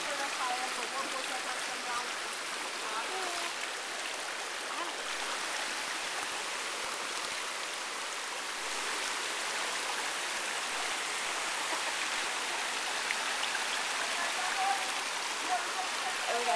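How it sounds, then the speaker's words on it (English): A rainforest stream in St Lucia rushes in a steady, broadband wash during a hike through the river, loud and continuous with voices faintly present. "Yeah, we're walking through the river."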